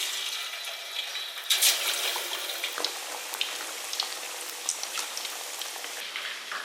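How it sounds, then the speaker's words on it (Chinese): Chicken wings coated in starch drop into hot oil in a wok and fry with a loud, dense, close crackling sizzle, a sharp burst near the start and then continuous popping, with no voices. "锅里油热，我们下鸡翅。"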